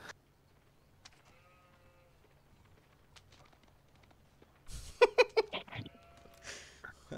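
Sheep bleating in the video game Age of Empires 4, a short cluster of sharp wavering animal calls bursting out over faint game ambience after several quiet seconds.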